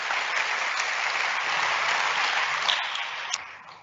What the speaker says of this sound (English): Please join me in a round of applause for our wonderful panel.